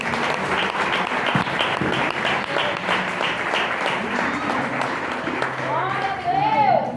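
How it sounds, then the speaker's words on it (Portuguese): A church congregation applauds loudly and steadily for several seconds during a family worship service, with a preacher speaking over the clapping. "Vamos aplaudir ao Senhor, em nome de Jesus."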